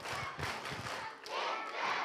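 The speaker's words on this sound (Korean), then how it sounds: "집중의 박수." A children's congregation at a Daniel prayer meeting claps hands together on request, a brief burst of crowd applause with thumping claps and some voices, fairly distant and muffled in a large hall.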